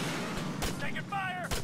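Gunfire in the military shooter Arma 3: a few sharp, separate shots crack out over a second and a half against steady battlefield noise, with a shouted voice between them.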